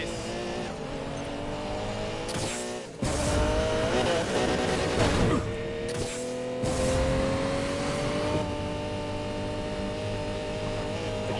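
A Lamborghini Murcielago supercar races in Need for Speed Payback on PS4, its engine whining and revving hard through gear changes, with bursts of tire squeal and impact noise over a tight, bendy course.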